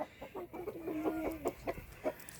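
Barred Rock hens in a coop give soft, rhythmic clucks and a short, low drawn-out warble. The sound is quiet and fairly close, with no talking.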